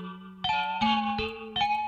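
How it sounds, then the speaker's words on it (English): A chopped sample in FL Studio runs through a vintage tremolo preset that adds distortion, giving gritty, pulsing sustained chords that shift pitch in four short blocks, with no voices. "Now obviously you can hear that it's adding some distortion"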